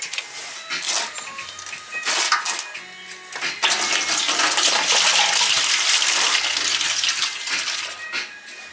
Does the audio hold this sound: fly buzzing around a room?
no